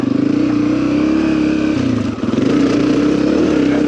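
A motorcycle engine pulling away in the wrong gear runs loud and close as a steady drone, sagging briefly midway as it bogs down before the sound carries on.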